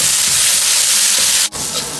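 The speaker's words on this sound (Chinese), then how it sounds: "锅中留适量的油，下入控干水分的辣椒，保持中火煸炒出水分" Drained chili peppers stir-fry in oil over medium heat in a wok, a loud, dense, close sizzle with stirring scrapes that cuts out for an instant before the hissing returns.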